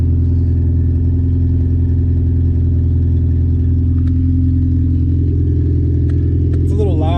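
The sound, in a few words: K-swapped car engine running and warming up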